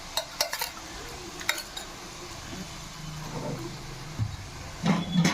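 Marinated chicken tipped into a pot of frying onions for chicken donne biryani, with metallic clinks of a spoon against the pot, soft stirring and a faint sizzle underneath.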